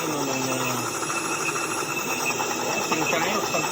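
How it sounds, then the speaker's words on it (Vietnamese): Tank-track clanking from an M1 sound pack on a Beier SFR-1-D sound module as the model turns: a steady, dense mechanical rattle and clatter runs throughout while someone talks over it. "sang trái hoặc sang phải là sẽ có tiếng xích"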